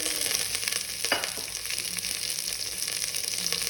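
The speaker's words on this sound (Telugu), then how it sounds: "ఇలా ఆనియన్ బ్రౌన్ కలర్ వచ్చేంత వరకు ఫ్రై చేసుకోవాలి." Onions frying in a hot pan for chicken pulao, giving a steady close sizzle and crackle with faint stirring scrapes throughout.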